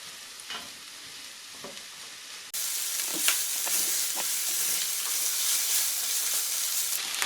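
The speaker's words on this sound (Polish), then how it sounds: "Wszystko razem będę podsmażać do zrumienienia cebulki, a przynajmniej do zeszklenia." Chopped onion, bacon and sausage fry together in a pan for Polish potato soup; a quieter sizzle jumps abruptly to a loud, steady crackle partway through, with light stirring taps and no speech.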